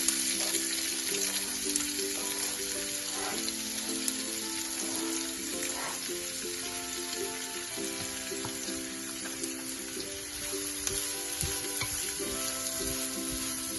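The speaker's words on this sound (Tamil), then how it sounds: "சில்லியோடு சேர்த்து இங்கே வெங்காயமும் ஆட் பண்ணுறோம்." Onions and chilli frying with cumin in a pan for a chilli pepper prawn dish, giving a steady close sizzle that hisses continuously, with light stirring scrapes now and then and no talking.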